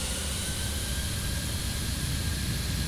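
Jet engines of an An-225 in Microsoft Flight Simulator hum at a steady, even roar with a faint high whine, and no voices are heard.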